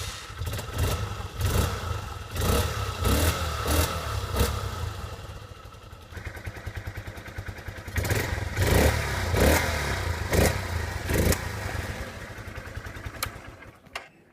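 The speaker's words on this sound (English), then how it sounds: "This is with the stock exhaust muffler on it." A Honda XR125 motorcycle with its stock exhaust muffler runs steadily nearby, with repeated throttle blips and revs over an idle and a mechanical clatter, and no talk.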